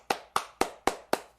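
Five crisp hand claps from a single nearby clapper, evenly spaced about a quarter second apart, each sharp and dry, with no voices.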